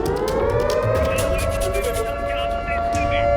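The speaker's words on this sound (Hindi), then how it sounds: "इस वक्त यहाँ पर लगातार सायरन की आवाज सुनाई दे रही है" An air raid siren wails continuously in Israel, a loud sustained tone with harmonics that slowly rises in pitch over a rumbling background, with faint voices underneath.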